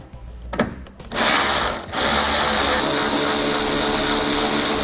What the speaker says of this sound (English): we're going to use a 7mm socket to remove those 3 bolts